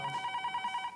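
A telephone rings late at night in a home, a rapid, evenly pulsed electronic trill that is clear and close and lasts about a second.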